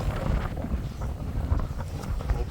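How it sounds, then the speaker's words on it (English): Brisk wind buffeting the microphone on a long breakwater walk at Rockland, Maine, a steady low rumble with gusty swells and faint footsteps beneath. "it's a little windy today"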